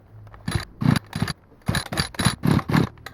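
A Stihl FS86 two-stroke string trimmer engine, primed with gas poured straight in, sputters and tries to catch in a string of rough, close bursts with short gaps, never settling into a steady run.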